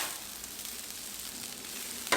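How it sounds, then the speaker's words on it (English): Egg and rice being stir-fried on a Blackstone flat-top griddle for shrimp stir fry, a steady soft sizzle with light scraping from spatulas and a brief louder scrape at the end. "go ahead and start mixing it in with your rice"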